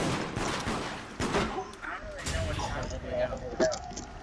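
Gunfire in the multiplayer video game Deceit, a rapid scatter of shots and cracks over a few seconds, moderately loud, mixed with voices talking.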